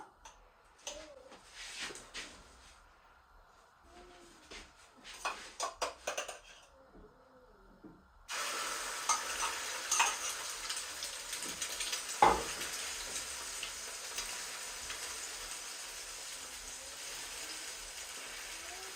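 An egg frying in generously heated oil in a pan, with a steady crackling sizzle that begins abruptly partway through after a stretch of quieter clattering kitchen sounds.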